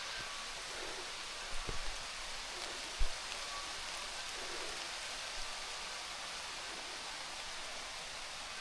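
Steady rain pours down in a cave-exploring video game, a continuous even hiss broken by a few soft thumps, with no voices.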